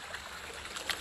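Mountain stream water pours steadily into a small outdoor pool, a continuous close splashing rush with no break over one second.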